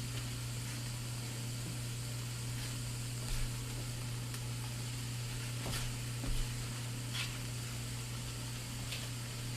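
Sausage sizzling in a pot with seasoned vegetables for red beans and rice, a continuous soft frying hiss under a steady low hum, with a few faint clinks of stirring.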